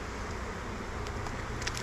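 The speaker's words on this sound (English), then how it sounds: "There's a lot of bees down here." Honeybees buzzing around an 8-frame beehive during inspection, a steady close droning hum with a few individual insects zipping past the microphone and no talking.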